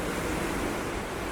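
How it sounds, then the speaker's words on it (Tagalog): Sea waves breaking on the coast at Alanya, Turkey, heard from a seaside terrace as a steady, loud wash of surf with some wind noise across the microphone, and no one speaking. "Nasa may dagat talaga."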